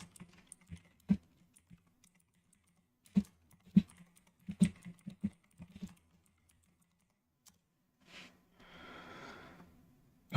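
Keys on a computer keyboard clack in scattered short bursts, quiet and close, with pauses between clusters and a soft breathy sound near the end.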